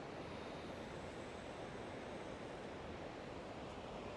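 Ocean surf washes steadily onto an oceanfront shore, a faint, continuous broadband rush of waves with no voices over it.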